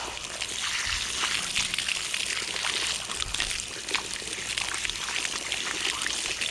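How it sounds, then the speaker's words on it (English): Water runs steadily from a tap while hands are washed during pig butchering, a close, continuous splashing and trickling with faint irregular slaps. "Wash my hands up really quick."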